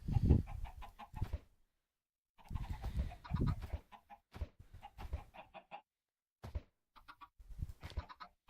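Minecraft chickens clucking in short bursts from a game, repeated bouts of cackling separated by brief silences, fairly close and clear with no talk over them.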